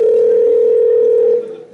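A steady, loud telephone dial tone holds for over a second before fading, heard as a call is about to be dialed during a New Year's KVN teachers-versus-students show.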